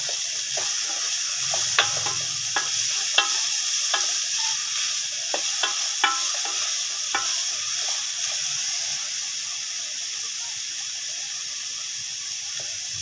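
Fenugreek leaves are stirred and fried in a pan, giving a steady soft sizzle with repeated light scraping clicks of the spoon at an uneven rhythm, fairly close and alone.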